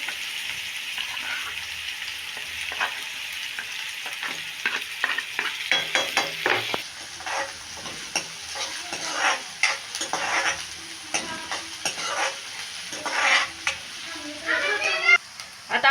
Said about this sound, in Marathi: बटर टाकून घेतलाय थोडा बारीक चिरलेला कांदा